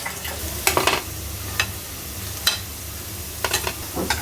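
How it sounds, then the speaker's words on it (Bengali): Food frying in a pan, a constant low sizzle punctuated by several sharp scraping stirs and knocks of a spatula spaced a second or so apart, with no talk. "আস্তে আস্তে ভাজলে একটু সুন্দর মচমচা হবে।"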